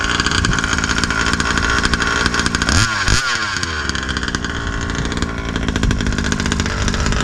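A Rovan 36cc big bore two-stroke engine runs close and loud at a fast, buzzing idle, with a quick blip of revs near the middle before settling back to a steady rattle.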